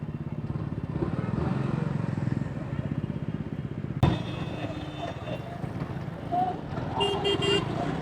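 Vehicles sit in a traffic jam on a road near Khopoli, blocked by an accident, with a running engine rumbling close by and a short burst of horn toots near the end while people talk.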